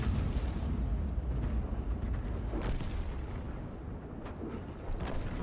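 Hummel self-propelled artillery gun firing in a tank video game, a dense rumbling blast with booming crackle sustained throughout, loud and close, with a couple of sharper reports toward the end.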